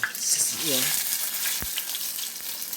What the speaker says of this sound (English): I got garlic and Scotch bonnet pepper to flavor the oil.